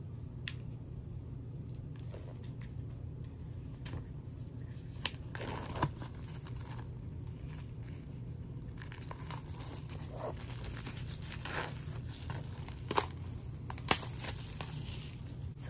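Plastic wrap on a K-pop album being cut and peeled open, quiet crinkling and tearing close by with a few sharp snips and rustles, no talking.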